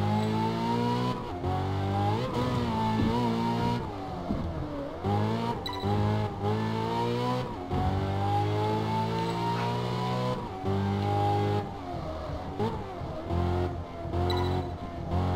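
A Ferrari California in Test Drive Unlimited 2 revs hard through repeated gear shifts. Its loud engine pitch climbs, drops at each change and climbs again over about fifteen seconds, with no talking.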